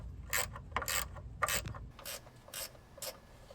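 A ratchet socket wrench loosens bolts on a Jeep Rubicon's rusty rock sliders, giving several short bursts of rapid clicking separated by brief pauses, close up in a quiet garage setting.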